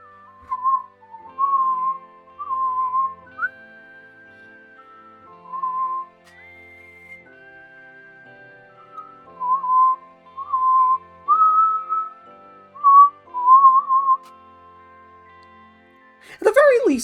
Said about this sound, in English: my whistling does come through on occasion